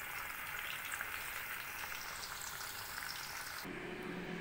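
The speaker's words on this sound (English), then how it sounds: "So I finished frying my sweet potatoes." Sweet potatoes frying in hot oil give a steady, even sizzle and crackle close by, unchanging for several seconds, then the sound shifts abruptly near the end.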